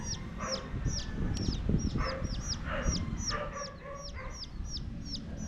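Chickens cluck and peep close by over a busy farmyard background, a steady run of short, high, repeated calls with no pauses.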